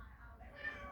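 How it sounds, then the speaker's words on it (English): A house cat gives a single faint, drawn-out meow indoors over a quiet low hum. "That's my cat meowing at me because I'm not playing with"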